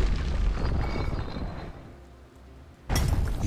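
A grenade in the video game Bastion goes off with a loud, broad boom and rumble that fades, followed by a second sharp burst near the end.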